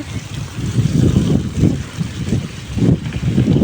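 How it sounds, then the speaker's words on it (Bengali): Strong wind gusts across a rooftop garden, rumbling on the microphone in uneven surges that rise and fall. "বাতাস প্রচুর বাতাস কিন্তু বৃষ্টি হওয়ার সম্ভাবনা নাই এই যে দেখুন কি বাতাস"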